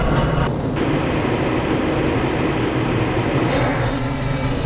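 A Black Mesa transit train from Half-Life: Blue Shift rides steadily along its track, a loud, close, continuous rumbling roar with a brief hiss near the start and a swell later on, with no talk.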